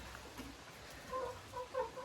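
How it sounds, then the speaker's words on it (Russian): Hens cluck softly inside a coop on a rainy day, a few short clucks rising over a quiet background hiss. "На улице дождь, и куры предпочитают сидеть в курятнике."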